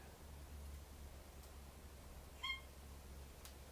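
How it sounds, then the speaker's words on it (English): A pet cat gives a single short meow indoors, brief and fairly clear over a low steady room hum, pleading to be let into the loft. "my cat really insist on that she wants to go in the loft"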